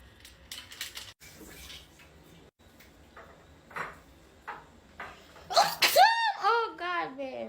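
A sharp, loud sneeze bursts out near the end, preceded by quiet kitchen clatter and soft bumps while brown stew chicken is being cooked.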